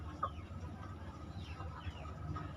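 Breeding hens in a backyard coop give a few faint, soft clucks against a low background hum.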